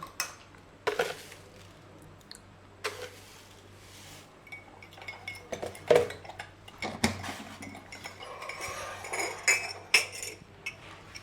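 Two metal spoons clinking against a cup or pot while tea is made at home, scattered sharp chinks and light scraping at close range, irregular and fairly quiet, no talk.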